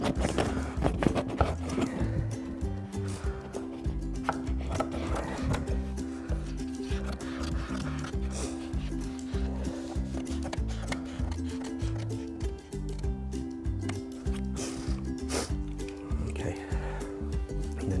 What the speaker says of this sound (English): I'm going to get my scissors.